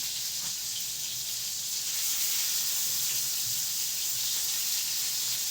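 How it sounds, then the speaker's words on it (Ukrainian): Meat cutlets fry in a pan, giving a steady, even sizzle and hiss that runs without a break at moderate loudness, with no talking. "Ну, а я смажу котлети."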